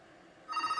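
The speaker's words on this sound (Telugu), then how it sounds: "ఫోన్ కూడా వచ్చేస్తుంది." A phone ringing indoors, a short electronic ringtone bursting in after a quiet moment, fairly faint and alone.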